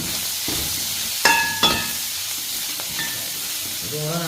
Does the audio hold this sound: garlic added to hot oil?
yes